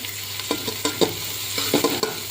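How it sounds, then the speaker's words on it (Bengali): Onions fry in hot mustard oil spiced with garam masala, giving a close, continuous sizzle. Repeated scraping stirring strokes cut through it at a brisk, uneven rhythm, and no one speaks. "পেঁয়াজটাকে এবার ভাজা হবে,"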